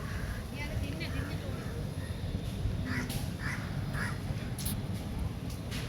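Crow cawing in an outdoor setting, a few short calls rising over steady low rumbling background noise.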